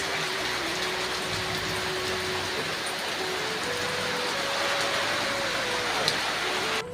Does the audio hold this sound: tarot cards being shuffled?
no